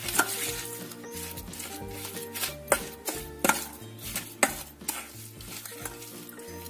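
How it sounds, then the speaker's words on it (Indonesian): Tapai is stirred with sugar and salt in a bowl, a steady scraping and sloshing with rhythmic utensil knocks against the side, continuous and close with no voices. "Kita aduk lagi sampai tercampur rata."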